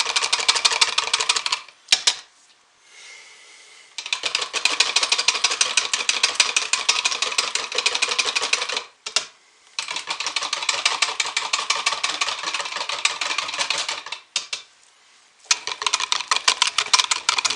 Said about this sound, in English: Now I'm just going to take my whisk at first and mix these together.